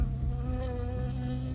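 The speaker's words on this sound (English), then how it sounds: "I got stung by a bee." A bee buzzes close by in the Firewatch video game, a steady droning hum with a clear tone that stays loud and even throughout, with no talk.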